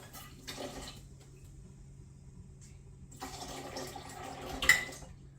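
Water is poured into a one-third measuring cup in a home kitchen while making keto pizza, giving two soft bursts of splashing with a quiet pause between them and a faint low hum underneath.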